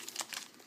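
Panini trading card pack wrapper being torn open, a quick faint crinkle and rip of foil plastic, close up, brief bursts with no speech.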